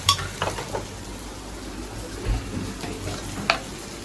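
Dried bombil fish chutney stirring and frying in a pan, a soft continuous sizzle broken by a few light scrapes and clinks of the spoon against the metal.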